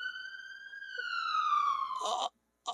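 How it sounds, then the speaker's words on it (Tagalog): An ambulance siren sounds in an Ilocano drama scene: one loud, sustained wail that slowly slides downward, cuts off, then returns in a short burst after a brief silence. "Anya dayta nga sirena."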